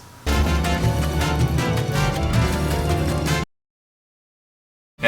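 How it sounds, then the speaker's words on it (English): A dense stack of layered drum parts and synth sounds plays loud and continuous for about three seconds, then cuts to silence before briefly returning. "all the drum parts and all the synth sounds"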